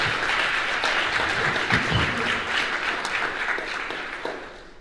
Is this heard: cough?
no